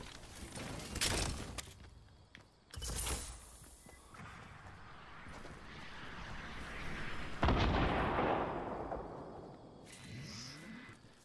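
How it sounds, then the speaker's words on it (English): Video game combat erupts with several heavy blasts and booming launches, each followed by a long roaring, whooshing tail of rumbling noise, fairly distant in the mix with no voices. "I'm gonna need this rocket launcher."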